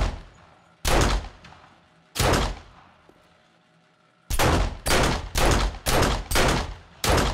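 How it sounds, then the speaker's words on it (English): Hunting rifle shots ring out in 7 Days to Die: two loud, separate cracks followed by a rapid string of five or six shots, each a sharp burst with a short decaying tail. "It's a hunting rifle."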